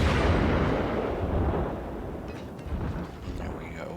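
Heavy naval gun salvo from a warship in World of Warships, with the Japanese light cruiser Tenryu engaging a destroyer; deep rumbling booms roll on continuously, loud and dense, with faint voice underneath.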